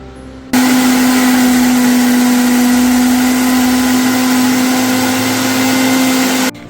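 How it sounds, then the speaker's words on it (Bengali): An electric grinder whirring ginger into paste, starting abruptly with a loud, steady, close motor drone and high buzzing hum that holds evenly for about six seconds before cutting off. "এই যে আদাটাকে আমি একটুখানি বাটা করে নিচ্ছি"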